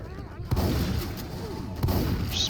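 Distant gunfire crackles in the background of the video game Left 4 Dead 2, two sharp booming shots over a busy rumbling soundscape, with faint talk underneath.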